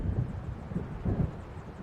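Distant, low rumbling thunder of an approaching storm in the video game Alan Wake, a faint, soft roll swelling twice over a steady windy hiss.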